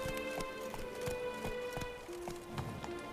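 Roach, a horse in the video game The Witcher 3, gallops with quick rhythmic hoof clops over a faint steady musical backdrop.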